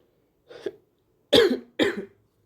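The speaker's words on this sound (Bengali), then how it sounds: "জ্বর সর্দির জন্য কাশিটাও মাঝে মাঝে হচ্ছে" Three separate coughs from a person cooking with a fever and cold, a softer one first, then two louder, harsher bursts close together, with no talk around them.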